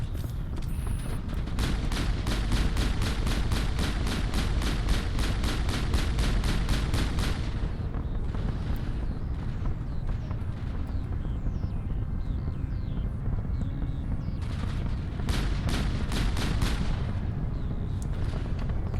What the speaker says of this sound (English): Right, we'll use the pistol.